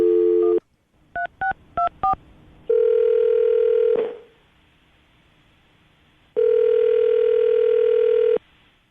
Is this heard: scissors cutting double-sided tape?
no